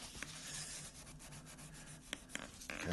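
A thin, coarse Brillo pad rubs back and forth across painted scuff marks, giving a soft, quiet scratchy friction in steady strokes, with a couple of faint knocks near the end.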